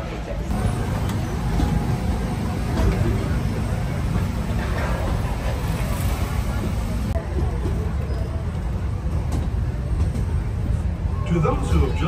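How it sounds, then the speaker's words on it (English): Riding the train at Disneyland, with a steady, dense rumble of the moving ride throughout and people talking over it. "Let's go on the train."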